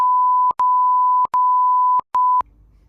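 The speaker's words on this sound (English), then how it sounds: "I'll put a beep so you don't hear." Four loud, steady censor beeps in a row, each a pure tone lasting under a second with brief gaps, ending with faint background noise.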